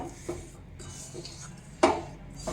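Sesame seeds and jaggery being stirred together in a pan for laddoos, soft scraping and rubbing with a sharper clink of the spoon against the pan near the end, close and alone.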